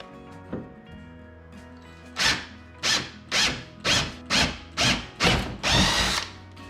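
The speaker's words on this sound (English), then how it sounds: "Now we just have a couple holes we need to drill out." A power drill whirs in a series of short, loud bursts, about eight quick pulses in a row after a few lighter taps, close by, drilling bolt holes for a jon boat side console steering install.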